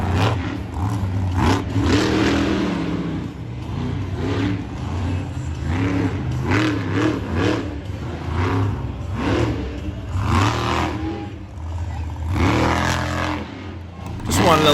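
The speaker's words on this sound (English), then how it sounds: "Wanted to let you enjoy the natural monster truck sounds for a moment." Monster truck engines revving in a stadium arena at a Monster Jam event in Salinas, loud surging roars rising and falling repeatedly with the crowd's noise behind.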